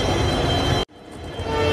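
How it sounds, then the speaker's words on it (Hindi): A train sounds loudly and steadily at Dehradun railway station, cutting off abruptly to a quieter platform hum before rising again. "ये है देहरादून रेलवे स्टेशन और मेरे लेफ्ट में है दिल्ली टू देहरादून मसूरी एक्सप्रेस"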